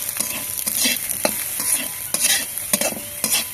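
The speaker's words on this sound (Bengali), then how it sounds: "সবগুলো খুব ভালোভাবে মিক্স করে নিতে হবে।" Vegetables and shelled peas being stirred together in a pan for winter vegetable chops, with repeated scraping strokes over a soft sizzle, close and fairly steady, with no talking.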